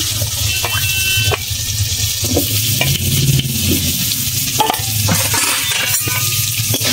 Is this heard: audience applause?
no